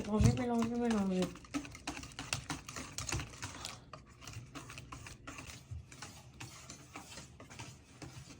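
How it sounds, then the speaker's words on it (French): Cake batter with oil being stirred in a bowl, a rapid series of close tapping and clicking strokes that carries on steadily after a short vocal sound at the start. "On commence à mélanger."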